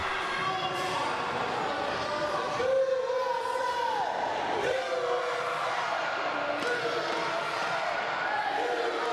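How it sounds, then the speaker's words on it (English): Wrestling crowd at an Extreme Christmas Tree match between The Sheik and Bobby Wolfert, a steady roar of many voices with rising chant-like swells, heard continuously at moderate level across the whole span. "Crowd chanting USA"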